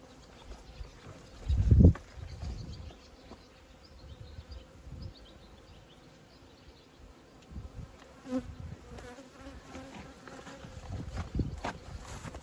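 Honey bees buzz around an open beehive while frames are handled, a continuous nearby hum with passing individual bees and a few thumps and knocks.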